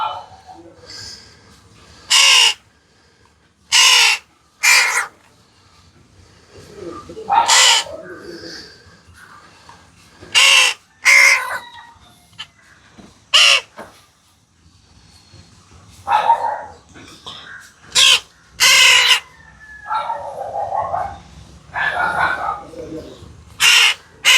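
A crow caws loudly and repeatedly in short harsh bursts spread across the stretch, close by, with people talking quietly between the calls.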